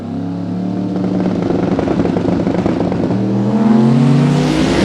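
Loud, close roar of a pickup truck making a drag racing pass in small tire competition, the engine note climbing steadily in pitch as it accelerates hard down the strip.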